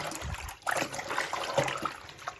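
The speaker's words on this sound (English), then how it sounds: "I'm going to rinse the cloth again." Water trickles and splashes from a tap as a cleaning cloth is rinsed, irregular close-up sloshing and dribbling with soft wet squelches, fairly quiet.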